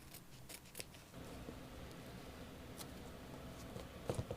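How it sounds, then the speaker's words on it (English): Scissors snipping a fabric patch off the tongue of a Reebok Alien BB 4000 II sneaker, a few quiet close crisp cuts near the start and again at the end, with soft handling noise between. "I think I might just cut this little fabric patch off"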